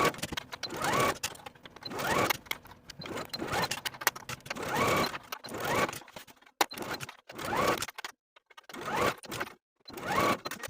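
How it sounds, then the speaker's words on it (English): A sewing machine stitches a facing to a skirt yoke in repeated bursts of whirring stitching with short pauses between runs, close and moderately loud. "Sew the facing to the yoke with a 1/2 inch seam allowance."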